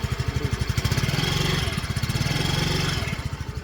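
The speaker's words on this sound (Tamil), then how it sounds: "ஸ்டாண்ட் எடுத்துட்டோம், எடுத்து ஸ்டார்ட் ஆகிடுச்சிங்களா?" A 2024 Yamaha Fascino scooter engine putters steadily at idle after starting, a loud, close, even low-pitched throb with a rapid regular pulse that swells slightly midway and holds through to the end.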